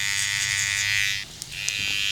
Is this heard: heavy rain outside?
no